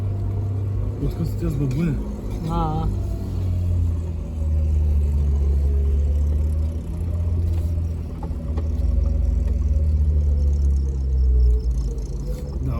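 A 4x4 engine revs on an easy off-road trail in Byron, Illinois, a steady low rumble swelling and easing over nearly the whole stretch while people talk over it.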